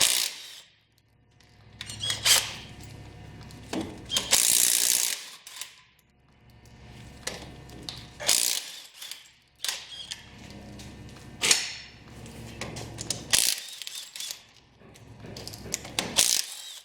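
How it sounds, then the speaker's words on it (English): A ratchet with a 14mm socket loosening spindle screws on a Toyota steering knuckle, rapid clicking bursts repeating in short runs, close and clear with metallic clanks between strokes. "get a 14mm, and take the spindle screws out"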